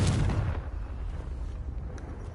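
A Confringo fire spell from Hogwarts Legacy detonates with a deep, loud boom, then a low rumbling tail fades over about two seconds.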